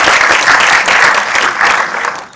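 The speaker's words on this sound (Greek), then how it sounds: "Ένα χειροκρότημα, παρακαλώ." A festival audience at a short film Q&A in Volos claps loudly and steadily, a dense wash of applause with no voices above it.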